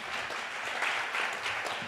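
An audience at a pitch event claps briefly in a dense, steady patter of applause with no voices over it.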